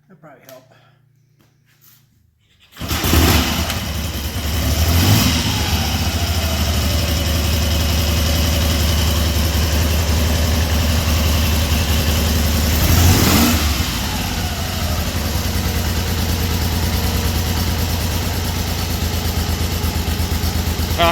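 A 1974 Triumph Trident motorcycle engine with a history of misfiring starts after a short quiet stretch, then runs loud and steady with a couple of throttle blips, close up, with voices talking over it.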